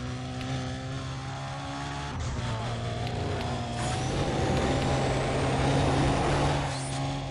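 In Need for Speed Undercover, a Mitsubishi Lancer Evo's engine drones steadily and climbs in pitch as the car accelerates, a continuous hum with no clear voices over it.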